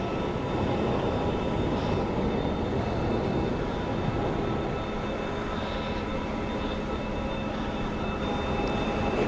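A parked airliner hums steadily at an airport at night, a continuous broadband engine or auxiliary-power drone with faint high whine tones, heard from a moderate distance with no talking.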